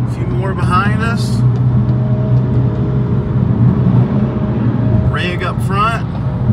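A long caravan of about fifteen BMW cars rolls down the highway toward a BMW meet in Orlando, steady road and engine rumble heard from inside a moving car, with someone speaking over it.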